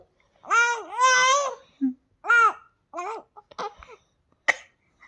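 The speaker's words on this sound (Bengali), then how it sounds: "কাশি হচ্ছে কাশি হচ্ছে" A young child coughs a few times between bursts of loud singing-like vocalizing, short sharp coughs close up in a quiet room.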